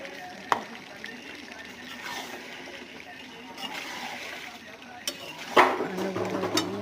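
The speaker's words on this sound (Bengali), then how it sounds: "চিকেন দিয়ে ভালো করে মশলাটাকে কষিয়ে নেব।" Chicken is stir-fried with spice masala in a pan, giving a steady soft sizzle with occasional scrapes and a wet clatter of stirring, while a person talks partway through.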